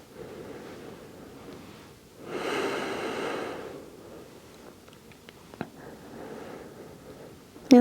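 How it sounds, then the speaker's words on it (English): Full, deep breaths taken during a mellow yoga session: a soft, slow exhale swells for about a second, then quieter breathing and faint rustles follow, close and gentle. "A couple more full breaths."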